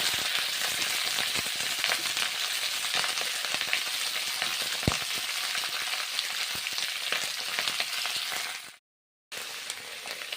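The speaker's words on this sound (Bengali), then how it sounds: "বাঁধাকপি ভেজে নিচ্ছি।" Cabbage frying in hot oil with cumin seeds, giving a loud dense crackling sizzle close to the pan, with a few stir knocks and one brief drop to silence near the end.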